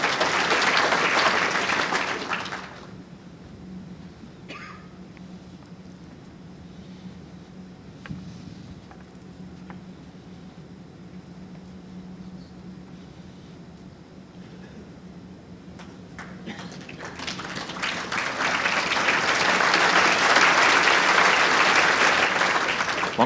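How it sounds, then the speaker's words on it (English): Spectators at a world bowls championship clap in a loud burst that fades within a few seconds. After a quiet stretch of murmuring and small sounds, a second swell of sustained applause rises to its peak and runs to the end. "Time to have a big cheer"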